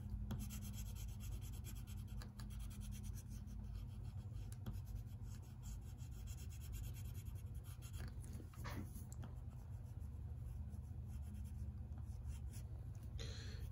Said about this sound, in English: Take the side of your pencil and color that in.